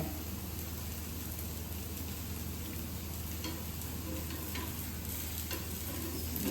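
A rice flour pudla batter cooks in a hot pan with a steady, close crackling sizzle that carries on evenly throughout, broken by small spits and pops, with no talking over it.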